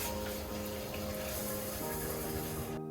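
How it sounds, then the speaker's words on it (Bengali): Tap water runs steadily into a kitchen sink as rice is rinsed beneath it, a close, continuous splashing rush that cuts off abruptly at the very end. "সেখান থেকে চাল নিয়ে চালটা পরিষ্কার করে এরপর ভাতটা বসিয়ে দিব"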